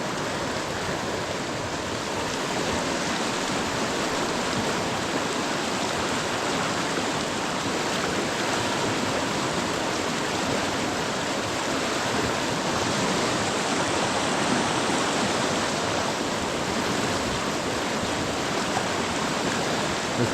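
Steady, broadband rush of a flowing stream after storm damage, close and continuous for the full length with no talk over it.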